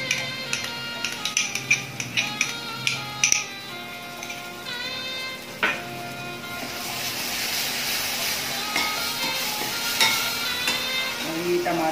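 A paste of mustard seeds, garlic and green chili fries in a pan for a dhaba-style cabbage dish. Scattered sharp crackles and pops come first, then a steady loud sizzle and hiss build up close by.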